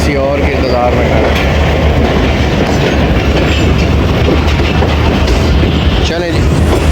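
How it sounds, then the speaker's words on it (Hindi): The 13 Up Awam Express rolls along the rails past Badami Bagh near Lahore, a loud continuous rumble and clatter of wheels heard from on board, with a brief squeal near the end. "बादामी बाग से पास हो रही है जी 13 अब अवाम एक्सप्रेस।"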